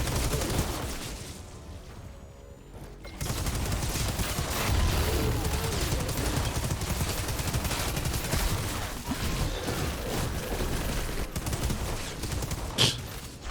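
Rapid bursts of gunfire from the video game Outriders crackle almost nonstop, with machine-gun volleys and scattered single shots over a busy combat backdrop.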